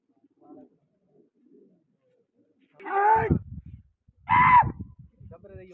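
Pigeons at a pigeon-flying competition give two clear, fairly close coos a second apart, each a rolling burst, with faint scattered sounds before and between them.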